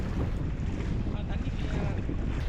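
Strong wind roars steadily outdoors on Hilantagaan Island, Bantayan, Cebu, buffeting the microphone with continuous low rumbling gusts and no pauses.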